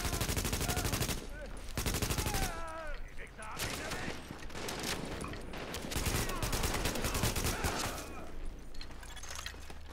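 Heavy gunfire in the video game The Division: dense bursts of automatic fire and shots, with shattering impacts, fill the whole stretch loudly. Game voices come through under the shooting.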